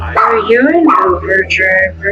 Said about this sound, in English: you can hear her dog barking inside her house as she slurs her words